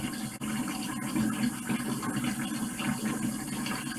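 Tap water running steadily into a bathroom sink during face washing, a continuous close splashing rush with a brief dip near the start.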